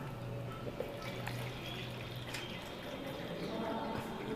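Water is poured steadily into a glass beaker during a class 10 chemistry demonstration on acids, bases and salts, a continuous splashing trickle heard up close with no voices.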